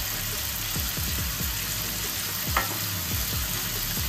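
Capsicum stir-frying in a pan for veg Manchurian makes a steady close sizzle, with repeated scraping stirs of a spatula running through it.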